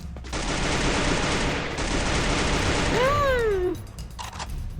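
Rapid sustained automatic fire from a SCAR rifle in a shooter video game, a dense continuous burst that stops abruptly, followed by a rising-falling whistling tone and scattered faint noises.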